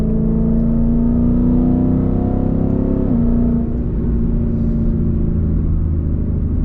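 A Ford Mustang GT V8 idles with a deep, steady rumble, rising slightly in pitch as the engine is revved and then settling back down, loud and close throughout.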